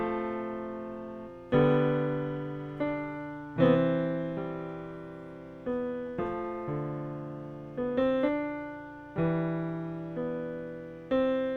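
Major-scale melody starting on C played on a MIDI keyboard, with piano-like notes and chords struck in a steady, moderate rhythm, each decaying before the next, close and clear with no voices.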